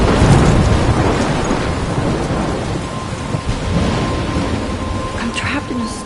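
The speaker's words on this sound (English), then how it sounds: "I'm trapped in a storm?" A loud, close thunderstorm with heavy rain gives a continuous roar of downpour and deep rumbling thunder that slowly eases off, with no voices.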